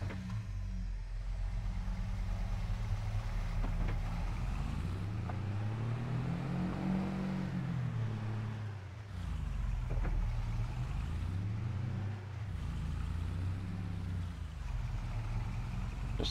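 A tractor engine in the video game Farming Simulator 22 drones steadily and close, its low rumble rising and falling in pitch as it drives down a road, with no talk.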